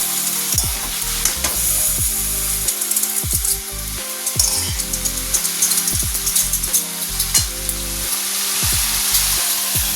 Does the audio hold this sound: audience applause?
no